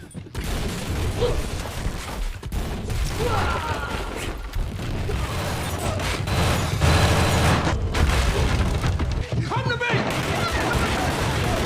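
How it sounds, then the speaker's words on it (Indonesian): Dense bursts of gunfire and booming blasts from an action scene, continuous and loud throughout, with a few voices shouting over the chaos. "Di tengah ratusan peluru yang berterbangan, Walker dengan cerdas mengincar satu persatu"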